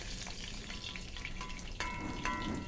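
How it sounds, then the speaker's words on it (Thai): Water poured into a hot frying pan holding onions while making Thai son-in-law eggs, heard as close, steady sizzling that swells into a louder hiss partway through, with no voices. "ยายก็จะเอาเอาหอมออกแล้วก็เอาบางส่วนไว้ในกระทะนะ แล้วก็เอาน้ำใส่ลงไป"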